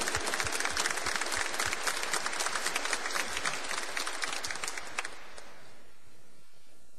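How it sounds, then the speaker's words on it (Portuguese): A church congregation at a Mass at the Aparecida shrine breaks into a full round of applause, loud, dense clapping that holds steady and then cuts away to a quiet room. "com a salva de palmas"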